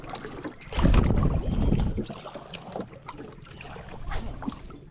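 Water sloshing and splashing against the hull of a moving bangka boat, with rumbling surges and wind buffeting, fairly close and without speech.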